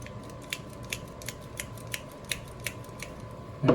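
A Hyper Tough mini grease gun is pumped by hand, giving a regular series of short clicking strokes about every third of a second against a steady background hum, ending with a louder clunk.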